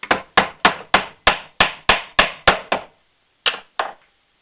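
A hoop peg forced in with a wood block, struck about ten times in a steady rhythm, a pause, then two more sharp knocks, loud and close.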